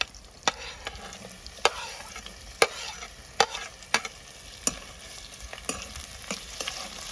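Strips of capsicum sizzle in a pan, with scattered sharp scrapes and clacks of a spatula stirring through them at irregular intervals, close and fairly quiet.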